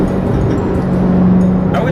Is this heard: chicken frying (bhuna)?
no